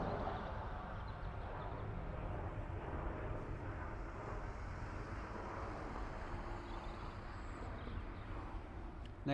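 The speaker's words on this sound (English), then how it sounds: "Next up, an ATR coming in from Guernsey." An ATR turboprop airliner arriving from Guernsey at Dublin Airport, a steady distant engine drone and rumble that holds at an even, moderate level throughout, with no talk.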